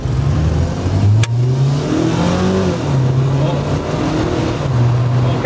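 A Mazda NC Roadster with automatic transmission accelerating, its engine revving and rising and falling in pitch as gears change, loud and steady from inside the car.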